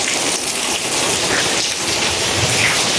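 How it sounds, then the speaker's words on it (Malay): Heavy rain pours steadily in Melaka, a dense, loud wash of noise with no pauses. "Hujan."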